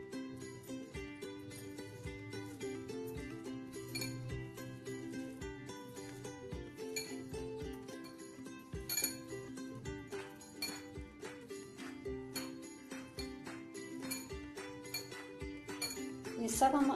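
A spoon clinks and scrapes repeatedly against a bowl while bread, vegetables, chilli powder, salt and coriander leaves are mixed, a steady close rhythm of light taps and jingles.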